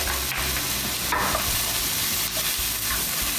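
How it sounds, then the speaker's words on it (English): Sliced mushrooms and chopped garlic fry in a pan and are stirred, a steady close sizzle with occasional scraping strokes and no voices. "We're going to add 8 ounces of sliced mushrooms. Stir those right in. And about 2 tablespoons of chopped garlic."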